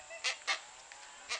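Hornbill-type bainah bird in a Kalimantan forest giving three short, hoarse honking calls, moderately distant over quiet background.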